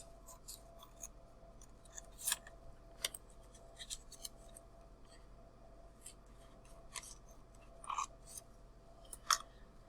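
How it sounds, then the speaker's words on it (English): Scissors snipping through paper, cutting a classroom foldable into three flaps: sparse, crisp close-up cuts spaced a second or two apart over a low steady background hum, with no voices. "we're going to cut these into 3 flaps"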